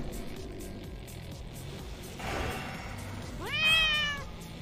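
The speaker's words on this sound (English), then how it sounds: "Oh, Kitty, what are you doing, Kitty?" A house cat close by lets out a drawn-out meow near the end, preceded by a softer vocal sound over a low background hum of game audio.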